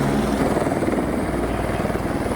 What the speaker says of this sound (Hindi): देखो नज़ारा हेलीकॉप्टर का।